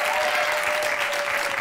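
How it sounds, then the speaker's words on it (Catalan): A studio audience on a Catalan late-night comedy show applauds in a dense, continuous wash of clapping that holds at full strength for the whole stretch. "Un aplaudiment per ella, la Glòria Cabaretera."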